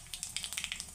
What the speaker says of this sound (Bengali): এখানে আমি তেলটা গরম হয়ে গেছে। এখন আমি দিয়ে দিব অল্প কালো জিরে।